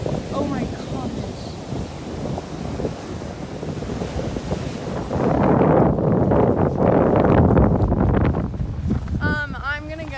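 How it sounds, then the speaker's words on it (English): Strong wind from Hurricane Michael gusts over a coastline with big breaking waves, a steady roaring rush that swells louder midway, with an excited voice talking throughout and briefly over it. "Whoa, look at how windy."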